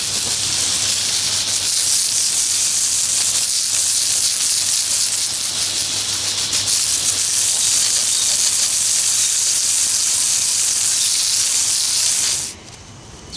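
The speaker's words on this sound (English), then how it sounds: "Let's give it a good hard spray and see how that goes." A loud, steady hiss of water blasting from a pressure sprayer onto a hard surface runs continuously for about twelve seconds, then cuts off abruptly.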